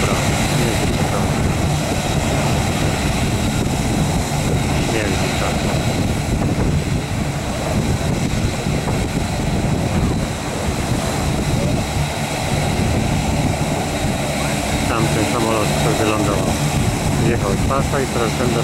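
Propeller airplane revving for takeoff at Maho Beach, Saint Martin, a loud continuous roaring drone with wind buffeting close by, under people talking.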